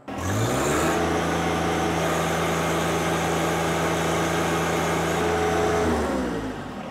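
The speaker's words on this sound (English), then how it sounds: "Let's see how far we can get it at full throttle." A Kubota BX or Deere 1025R compact tractor engine runs at full throttle while its front loader lifts a heavy load, a loud steady mechanical drone that holds for several seconds before easing off at the end.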